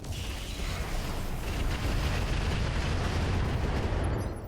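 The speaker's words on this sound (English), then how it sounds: "I think maybe we do drop one set of bombs on this heavy howitzer" Bombs dropped on a heavy howitzer in the mech game RogueTech, a sustained rumbling barrage of blasts merging into one dense, loud roar throughout.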